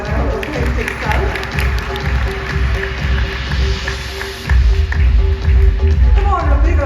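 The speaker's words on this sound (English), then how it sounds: "let's welcome Miss Saiba Bali with a big round of applause" An event audience applauds to welcome a speaker onstage, with dense, loud, continuous clapping that swells toward the end, mixed with crowd noise and a voice over a sound system.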